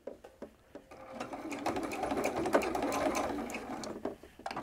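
A sewing machine back-stitches the corner of a fabric iPad case, starting with a few short separate stitches and then running in a steady, close mechanical whir before slowing again.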